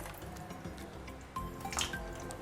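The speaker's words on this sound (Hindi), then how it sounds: "पानी डालकर इसे हम थोड़ा सा यहाँ पर क्लीन करेंगे।" Water pours and drips in a kitchen sink to rinse a hand blender after beating yogurt, a soft steady trickle with a brief louder splash midway.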